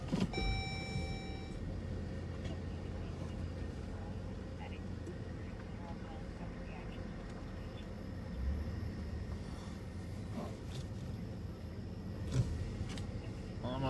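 A Ramsey County sheriff's patrol car idles with a steady, low engine hum that runs continuously underneath a person talking inside the vehicle.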